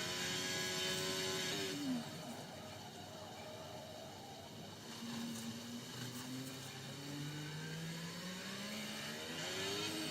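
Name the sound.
racing car engines in a video game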